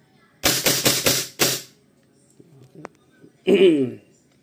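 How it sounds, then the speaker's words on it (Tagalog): A WE G17 Gen 3 gas blowback airsoft pistol fires BBs in a quick string of about five sharp, close cracks, followed after a pause by a brief voice. "WG 17 Gen 3. Firing!"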